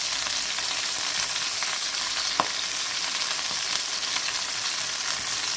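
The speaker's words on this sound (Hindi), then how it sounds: "इनको भी इसी तरह से हमने फ्राई करना है हल्का हल्का सा" Capsicum and eggplant frying lightly in leftover oil in a pan for a vegetable korma, giving a steady, close, even sizzle throughout with one brief sharp crackle partway through and no talking.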